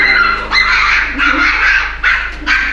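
Dogs at a dog cafe in Kyoto barking and yipping repeatedly, several short bursts close and fairly loud over a steady low background hum.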